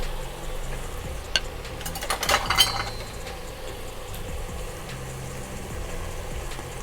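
Chicken going into a wok of colourful stir-fried vegetables for Chinese fried rice, with a brief burst of sizzling and utensil clinks near the middle over a steady low kitchen hum, no talking.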